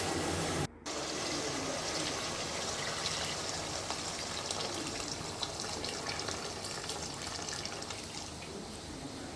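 Water pouring steadily into a pot of soaked rice for chicken biryani, a continuous close splashing gush after a brief pause at the start, lasting several seconds with no voices.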